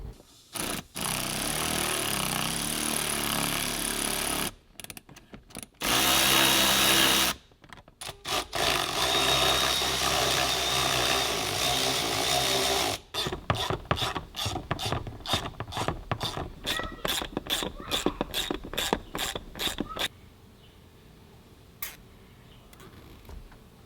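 Hand tools tighten the bolts on an S&B cold-side intercooler pipe of a Ford 6.7 PowerStroke diesel, giving a close, busy run of mechanical clatter followed by a long series of quick, evenly spaced ratchet clicks that fade into quiet.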